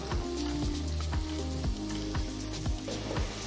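Two large thinly sliced onions hit hot oil with bay leaf, cinnamon, clove, cardamom and cumin seeds, giving a steady close crackling sizzle with soft repeated knocks, no voices.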